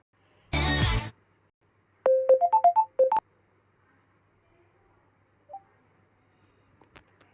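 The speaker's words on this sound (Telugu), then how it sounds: "మళ్ళీ వీడియో కాల్ చేస్తా, ఎత్తండి మళ్ళా." An outgoing video call on a laptop rings: after a short burst of noise, a quick melodic run of electronic beeps plays once, then the room falls nearly silent apart from faint clicks.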